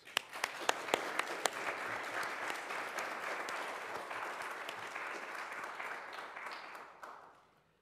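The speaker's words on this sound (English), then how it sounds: "will you join me in applauding their achievements?" A church congregation bursts into applause during a homily, starting with a few sharp, distinct claps that swell into a sustained roomy wash of clapping and then taper off near the end, fairly soft and distant.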